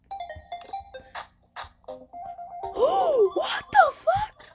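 A phone rings from an unknown number, its warbling electronic tone rising and falling in close, loud repeated bursts after a stretch of quieter sounds, with people gasping and reacting nearby.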